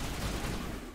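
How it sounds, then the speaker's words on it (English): Gunfire from Liara in Mass Effect, rapid shots striking a wall, a dense steady burst of weapon fire that stays loud throughout and tails off slightly at the end. "Liara's just shooting the wall"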